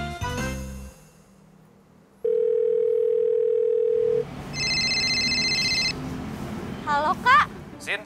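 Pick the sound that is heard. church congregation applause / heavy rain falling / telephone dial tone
telephone dial tone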